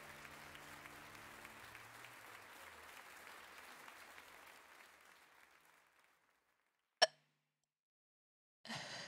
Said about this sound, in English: Random applause.